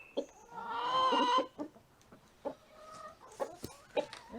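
A chicken at a backyard coop clucks close by, with one long drawn-out squawk followed by several short, spaced clucks and soft rustling.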